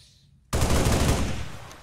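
A single loud gunshot from the video game XCOM 2 cracks out after half a second of near silence, its dense boom then slowly fading away, with no talk over it.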